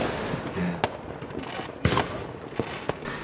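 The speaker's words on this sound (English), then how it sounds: "Lots of firecrackers, lots of rockets." New Year's fireworks in Germany: scattered sharp firecracker bangs and rocket pops ring out at irregular intervals, several loud reports over a steady crackling background, with no talking.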